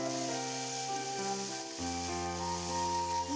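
Prawns briefly frying in hot oil for a Bengali prawn curry give off a continuous close sizzle and hiss, with faint stirring and an underlying hum, no talk.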